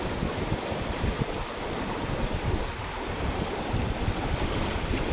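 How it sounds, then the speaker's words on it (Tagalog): Strong river current rushing past with broadband water turbulence and wind buffeting the microphone, steady and loud throughout, no talking. "Malakas ang agos mga kaibigan."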